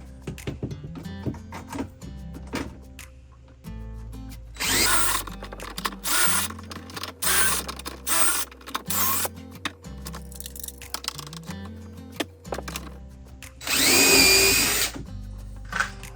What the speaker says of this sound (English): now that I've got all my holes drilled